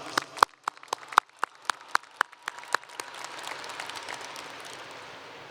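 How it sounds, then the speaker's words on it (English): A high school graduation audience applauds, starting with a few loud, distinct claps that quickly swell into dense, sustained clapping from a large crowd filling the hall. "Let's give them a round of applause."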